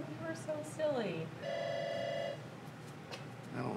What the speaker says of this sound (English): I don't know why the phone keeps ringing.